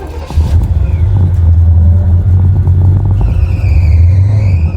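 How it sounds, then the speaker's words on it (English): A 1969 Chevelle engine runs steadily close by, a loud low rumble throughout, with a thin high squealing tone from a slipping belt rising over it in the second half. "Belt squeaks real bad."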